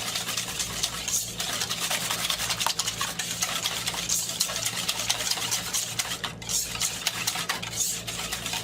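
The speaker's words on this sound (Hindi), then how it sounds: "इसको अच्छी तरह से मिक्स करेंगे।" Chaat masala, red chilli powder and crushed chillies are mixed into a batch for dahi baray with continuous, close stirring. The rough scraping and churning stays even and steady throughout, with no talk.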